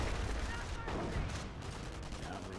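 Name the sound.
stun grenades exploding in video game Company of Heroes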